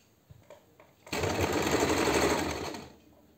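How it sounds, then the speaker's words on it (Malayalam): Kurta fabric is stitched along its edge on a sewing machine, which starts up after a few soft handling clicks and runs loud and close for about two seconds in a steady rapid hum before slowing to a stop. "ഇനി നമുക്ക് ജസ്റ്റ് ഇത് അതിൻ്റെ അറ്റത്തൂടെ ഇങ്ങനെ അടിച്ചു കൊടുക്കാം."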